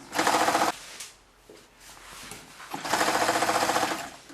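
Two loud, fast bursts of a sewing machine stitching three fabrics together in one seam, each a rapid hammering run of stitches, separated by a quieter pause with soft handling noise.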